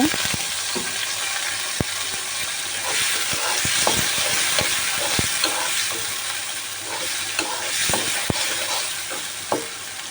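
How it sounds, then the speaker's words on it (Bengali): Steady, crackling sizzle of potatoes frying in hot oil, with occasional scrapes and taps of a utensil stirring the pan. "আমি অনেকটা বাদামি রং করে আলুগুলোকে ভেজে নেব"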